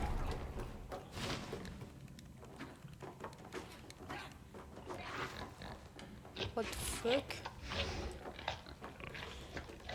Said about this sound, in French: Le cochon éventré qui bouffe là?